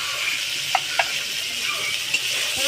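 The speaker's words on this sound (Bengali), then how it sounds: "সব মশলাগুলো আমি একসাথে ভালো করে কষিয়ে নেব" Ginger-chilli paste and chilli powder fry in a pan, making a soft steady sizzle. A few sharp clicks of a stirring utensil break through it.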